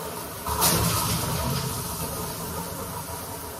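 Steady broadband water spray from a shower, starting with a brief louder burst and then running continuously and close, with no talking over it.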